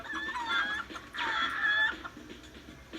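Chickens cluck in Crash: Mind Over Mutant on Xbox 360 in two bursts of sharp, squawking clucks, close and clear, followed by quieter game ambience.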